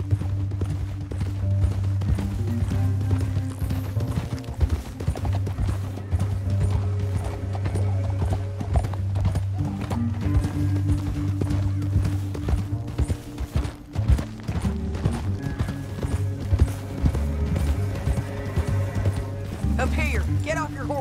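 Rapid clip-clop of galloping hooves in Red Dead Redemption 2, loud and continuous, with occasional whinnying and voices speaking over the rhythm.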